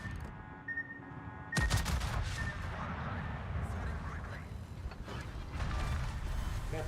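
A naval gun broadside from a warship in the video game World of Warships, one sudden loud blast followed by rumbling battle noise and scattered booms, with a voice talking.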